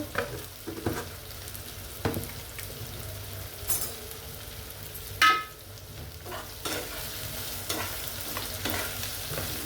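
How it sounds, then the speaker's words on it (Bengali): Onions frying in a pan while being stirred, for an aair fish do-pyaza with winter vegetables: a steady low sizzle with scraping stir strokes and a louder clatter midway, fairly close and alone. "পেঁয়াজকে আমি ভালো করে ভেজে নেব"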